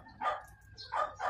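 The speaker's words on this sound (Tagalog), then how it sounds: "andito na naman yung mga aso ng anak ko" Dogs belonging to the household bark in short bursts, three or so yips and barks spaced over a second, moderately close at an outdoor meal.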